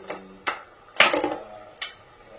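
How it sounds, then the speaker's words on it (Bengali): A spoon stirs salt and chilli powder into a sauce in a pan, with a few distinct scraping knocks against the metal, close and unaccompanied. "সমস্ত কিছু এবার সসের সাথে মিশিয়ে নেব।"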